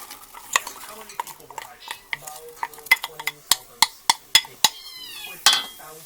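Onion and celery being stirred in a soup pot make a run of sharp spoon clinks and scrapes against the metal, quickening midway, over a faint sizzle.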